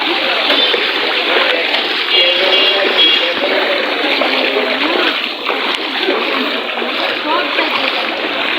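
Water splashes and sloshes steadily as people bathe in rain-fed floodwater covering a whole neighbourhood after a cyclone, the wet churning continuous and close with voices talking over it throughout.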